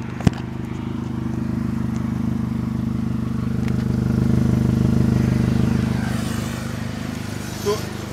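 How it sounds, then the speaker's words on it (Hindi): A Toyota Corolla GLI 1.6 with an aftermarket on/off exhaust idles, giving a steady, even low rumble that holds throughout with no revving. "ये जो है अब आइडल पे है आइडल पे इसकी साउंड है मैं आप लोगों को बाहर से भी सुना देता हूँ"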